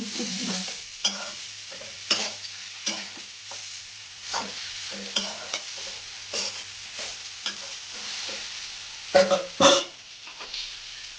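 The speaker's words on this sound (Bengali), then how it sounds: "গুড়টা দিয়ে দিচ্ছি ভালো করে নাড়িয়ে চেড়ে" Jaggery is stirred into elephant apple pickle in a pan, giving intermittent scraping stirs and faint sizzling over a low background hum, with a few louder clatters toward the end.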